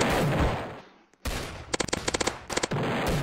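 Rapid gunfire from the Annihilator weapon in the Roblox game Zombie Attack, loud bursts of automatic shots with a brief gap, followed by a string of distinct repeated blasts, dense game effects throughout.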